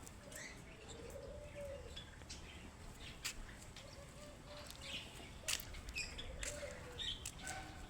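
Soft, low cooing from several birds in an aviary, faint and somewhat distant, with occasional chirps and brief wing flutters.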